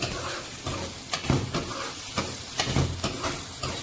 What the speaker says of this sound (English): See, our onions are being sauteed.